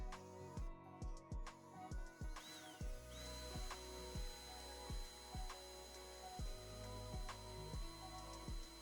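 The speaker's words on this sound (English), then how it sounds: "Carefully drill through both boards at the marked points." A power drill bores through two stacked wooden boards, heard as a steady run of short, regular pulses from close by, with a high whine held over part of the stretch and no talking.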